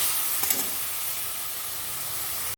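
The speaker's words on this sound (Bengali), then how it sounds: "সব সময় খুব ভালো করে নাড়িয়ে কষিয়ে নেব" Spices with cumin paste and cauliflower fry and are stirred in a pan, a dense, close, continuous sizzle with a brief scrape of stirring early on, then an abrupt stop.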